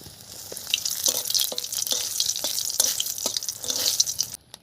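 Dried red chillies frying in hot oil give a bright, continuous sizzle with crackling pops and a few scraping stirs close by, ending abruptly.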